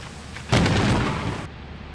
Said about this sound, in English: Both of them got struck by lightning!